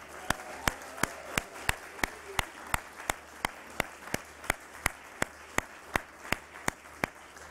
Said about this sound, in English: All of your accomplishments deserve another round of applause.